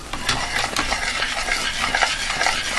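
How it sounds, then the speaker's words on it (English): Butter toffee being stirred steadily in a pot as it cooks toward hard crack, a continuous near scraping and bubbling hiss with soft repeated spoon strokes, no voices. "You're going to want to stir this the whole time."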